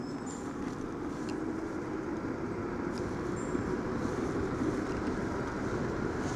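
A Ride G3 Max electric scooter accelerating up a gentle incline, heard as a steady low rumble of wheels and motor mixed with strong wind buffeting, with no talking.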